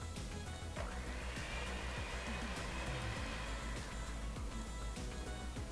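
An electric hand mixer whirs steadily, beating egg yolk and vanilla extract into butter and sugar for oatmeal chocolate chip cookie dough, a continuous close motor drone with no talking.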